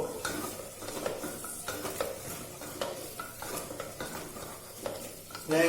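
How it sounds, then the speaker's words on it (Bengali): Egg mixture with green chili and a little ginger paste fries and gets stirred in a pan, a steady close sizzle broken by scraping spatula strokes and light clinks of utensil on metal. "আমি পুরো জিনিসটাকে ভালো করে কিন্তু ভাজবো"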